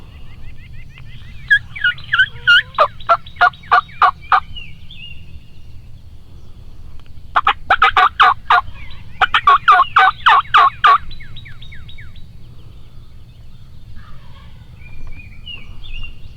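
A wild turkey gobbles during a Kentucky spring hunting season, several loud, rapid gobbling bursts in separate volleys over a low steady background rumble, with other birds calling faintly between them.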